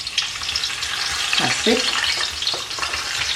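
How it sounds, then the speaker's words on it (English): Red snapper frying in a pan with thyme, garlic and rosemary gives a steady close sizzle and crackle throughout, with a few stirring scrapes and a brief spoken remark over it. "I'm going to fry the fish."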